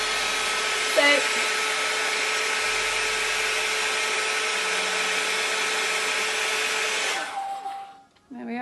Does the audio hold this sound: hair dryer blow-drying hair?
yes